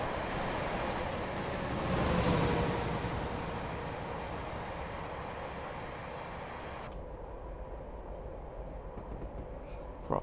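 An Intercity HST train in Train Simulator runs at low speed with a steady rumbling drone and a high whine that dips in pitch, swelling briefly before settling; the upper hiss cuts away near the end.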